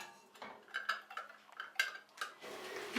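Glass jars are set one by one into a large pot lined with a cloth, making soft, quiet clinks and clunks at irregular intervals.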